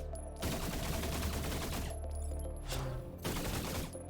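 SMG fire in a video game: two long rapid bursts and a shorter third burst, loud and close, separated by brief pauses.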